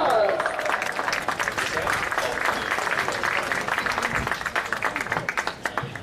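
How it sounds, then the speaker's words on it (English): Crowd applause at a high school boys lacrosse all-star game honoring second-team All-State players, steady clapping filling the whole stretch with some talk or murmur mixed in, trailing off at the end. "Let's give our second team All-State a round of applause."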